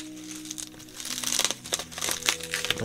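Close crinkling and crumpling of plastic and paper packaging as a perfume parcel is unwrapped, steady rustling bursts growing busier over a few seconds with no talk.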